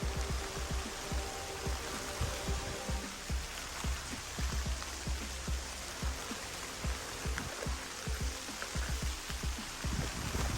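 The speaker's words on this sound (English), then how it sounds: "Oh, the rain has started." Steady rain patters on surfaces all around on a Florida Trail section near Marshall Swamp, a dense hiss with scattered close drops tapping throughout, no voices.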